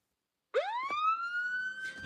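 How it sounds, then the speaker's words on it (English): A police siren wails up and sweeps into a steady high tone, starting abruptly after a moment of silence, loud and close. "Without the police sirens."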